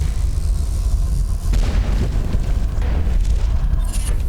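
A grenade explodes in the stealth game Dishonored, a loud, deep booming blast rolling out over a dense rumble of game ambience, with a second burst of crackling energy following.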